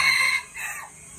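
A small labuyo, a red junglefowl rooster, gives a short, loud, close crow that breaks off after about a second.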